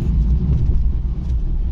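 Interior road noise from a Mercedes car moving at about 60 km/h along the Barapullah flyover, a loud continuous low rumble of engine and tires with slight fluctuations and no voices.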